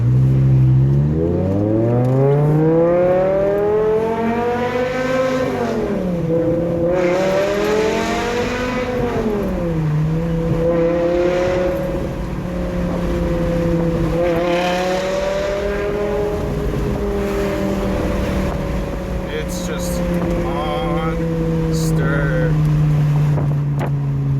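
A BMW M5 E60 sedan with about 500 horsepower pulls hard at high speed, its engine note rising and falling through the gears in a loud, continuous roar with steady wind rush behind it.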